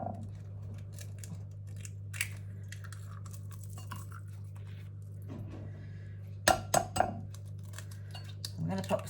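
Eggs cracked one after another into a jug in a home kitchen, a cluster of sharp clinks and taps near the end over a steady low hum, with brief voices earlier.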